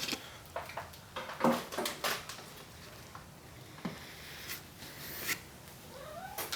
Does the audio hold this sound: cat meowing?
yes